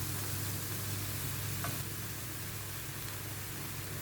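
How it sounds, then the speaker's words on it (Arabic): Minced meat and onion frying in a pan as they are stirred together, giving a steady close hiss and sizzle with a low background hum throughout. "بعد ما بنزل البصلة كده ببتدي بس ان اديها تقليبة مع اللحمة ويتشمعوا كلهم مع بعض"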